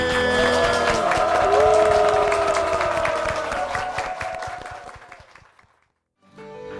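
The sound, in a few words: church congregation applause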